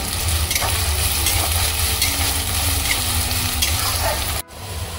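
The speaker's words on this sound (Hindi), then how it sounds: "इसे हमें ज़्यादा नहीं भूनना, बस इसका कलर चेंज होने तक हमें भूनना है।" Ingredients roasting in a pan for a village-style Indian samosa filling give a steady broadband sizzle with occasional stirring scrapes, continuous and close, with a brief dropout near the end.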